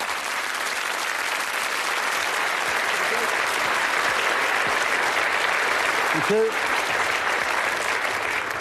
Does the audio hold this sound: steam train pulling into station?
no